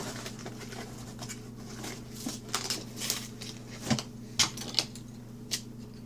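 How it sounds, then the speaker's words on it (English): Scissors snip and cut through a sealed toy box and card packaging, giving a faint series of short crisp clicks and scrapes in irregular bursts over a low steady background hum. "Here I am, still using these crappy scissors of mine."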